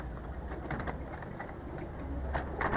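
Pigeons at a home loft coo softly and repeatedly against a steady low background hum, with a few brief brighter bird calls scattered through.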